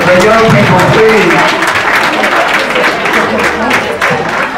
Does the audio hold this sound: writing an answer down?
no